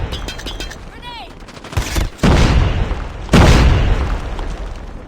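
A grenade blast in Call of Duty Mobile on the Khandor Hideout map brings several loud, close booms mixed with bursts of gunfire, after an earlier stretch of quieter game noise and voice callouts.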